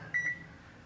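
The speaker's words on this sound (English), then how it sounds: "So I'm going to put 2 minutes on" A microwave oven being set to run for two minutes: two quick, close electronic keypad beeps in fast succession, clear and alone over a faint low room hum, with no talk.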